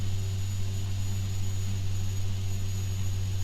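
A jet airliner's engines drone in the X-Plane 10 flight simulator at Delhi's Indira Gandhi International Airport, a steady loud hum with a low tonal whine and an even level throughout, with no voices.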